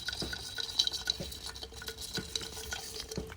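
Cashew seeds stirred in a pot over a wood fire to draw out their oil, with repeated scraping and rattling strokes at an uneven rhythm over a faint crackle, heard fairly quiet and close, with no voices.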